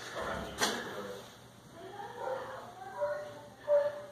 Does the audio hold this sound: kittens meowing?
yes